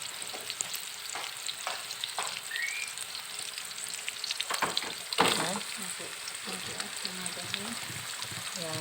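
Garlic and shallots sizzle steadily in hot oil as they are stir-fried for tumis bunga pepaya, with scattered clinks of a utensil against the pan and a few brief voices in the background.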